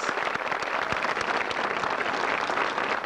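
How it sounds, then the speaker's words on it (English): An audience at a 1996 high school graduation ceremony applauds its academic leaders with steady, dense clapping that fills the hall without a break and has no voices over it. "Please join me in applauding these academic leaders of the class of 1996."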